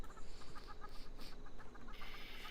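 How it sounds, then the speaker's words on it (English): Chickens clucking in the video game Fallout 76, a steady cluster of short fowl calls heard at moderate distance over a busy game background, with no voices in between. "I hear chickens, but I don't see them."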